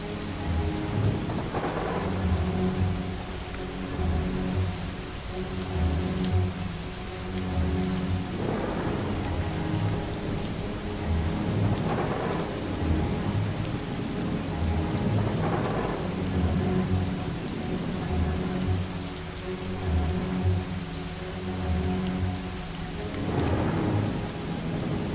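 Steady rain pours throughout a thunderstorm in the video game Far from Noise, with deep rumbles of thunder rolling in roughly every seven seconds, loud and close, and no talking.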